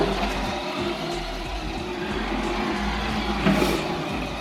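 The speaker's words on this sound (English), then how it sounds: "that's full throttle" A Horizon Hobby Warhawk 1/10 four-wheel-drive short course RC truck runs at full throttle outdoors near icicles, giving a steady, fairly distant motor whine with a brief swell near the end.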